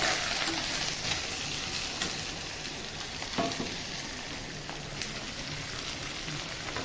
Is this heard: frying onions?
yes